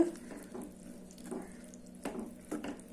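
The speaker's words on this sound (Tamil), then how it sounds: "இப்போ இந்த கூட்டில் நம்ம இந்த தாளிப்பை சேர்த்துடலாம்" A hot tempering of spices in oil is poured into a snake gourd kootu, giving a soft, close sizzle with a few short crackling bursts over a quiet kitchen hum.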